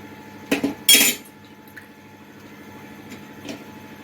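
Kesari stirred in a pan with colour powder just added, giving two close scraping clinks of a spoon against metal early on, then a quiet background with faint soft scrapes.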